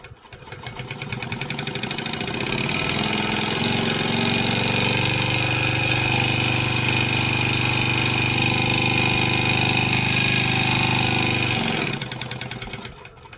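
A sewing machine runs steadily at speed for about ten seconds while back stitching along the edges of a fabric piece, a loud continuous mechanical whir that winds up at the start and slows to a stop at the end.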